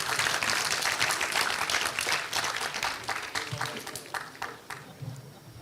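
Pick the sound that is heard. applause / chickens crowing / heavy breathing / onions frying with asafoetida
applause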